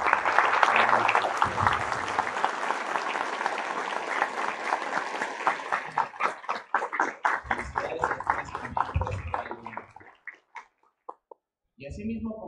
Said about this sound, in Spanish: yo solicito un fuerte aplauso para las personas que nos apoyaron